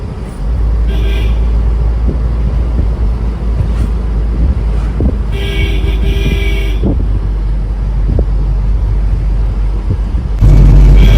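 An ambulance drives along the road, heard from inside as a constant low engine and road rumble with buffeting wind noise, and a brief louder surge at the end.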